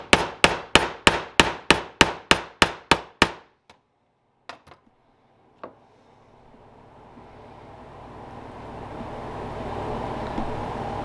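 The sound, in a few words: tapping on a tube to form it without a mold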